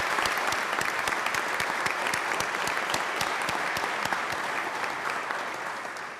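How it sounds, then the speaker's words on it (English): Sustained applause from an audience in a legislative chamber, dense steady clapping at constant level that begins to fade slightly toward the end, with no talk over it. "she deserves a tremendous round of applause as well"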